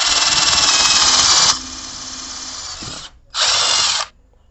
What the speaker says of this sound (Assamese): এইফালে আপোনাৰ কাঠৰ কিছুমান প্লাইবোৰ্ড আছে, ইয়াত আমি ড্ৰিল কৰি টেষ্ট কৰি চাওঁ